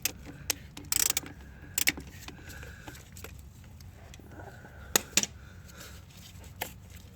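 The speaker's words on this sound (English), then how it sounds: "So I'm going to go ahead and take this 12 millimeter nut off here." A ratchet loosens a 12 mm starter nut on a 2011-2015 Nissan Rogue, sharp quick clicking bursts and metallic taps spaced irregularly with quiet gaps between them, close up in a quiet garage.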